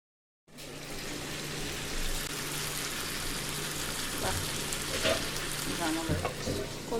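Tomatoes cook on a gas stove with a steady, close sizzle and frying crackle that starts abruptly and continues throughout, with faint clinks and a bit of quiet talk in the background.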